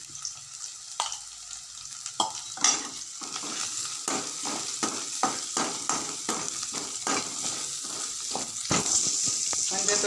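Potato filling with turmeric sautéing in a pan, a soft steady sizzle broken by repeated scraping stirs of a spoon, fairly quiet and close, with a voice faintly in the background.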